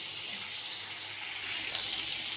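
Tap water runs in a steady, faint gushing hiss while a mixer jar is rinsed during home cooking of a potato and mushroom fry, with no voices over it.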